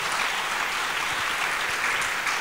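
Audience in a church gathering applauding and cheering for Jesus, dense continuous clapping from a large crowd, steady and moderately distant throughout.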